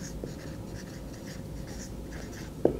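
A pen writes by hand on paper during an accounting lesson: soft, faint scratching strokes in a quiet room, ending with a sharp tap.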